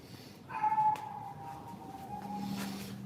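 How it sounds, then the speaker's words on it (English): Dogs whimper and yip excitedly in a room, a thin high whine stretching across the moment with a brief sharp yelp, fairly faint against steady background noise and a low hum. "Dogs are going crazy."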